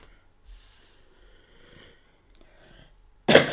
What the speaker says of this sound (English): I don't know why I always have to cough when I do a video.